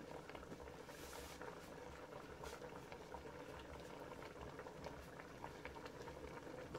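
A pot of black-eyed peas boiling, a faint, even bubbling and popping that runs steadily throughout with no voices over it.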